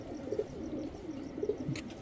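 Old-breed Giribaj high-flyer and racer pigeons coo in low, throaty bursts close by, several rolling calls over a quiet background.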